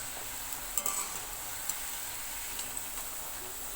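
Paneer pakoda fritters fry in hot oil over a low flame, giving a soft, steady sizzle with occasional faint clinks, quiet and continuous with no talking.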